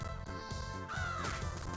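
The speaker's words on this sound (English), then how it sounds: "Birds being some of the more annoying enemies of the game." A bird enemy in the video game Castlevania Portrait of Ruin lets out a single harsh crow caw over the game's steady background music.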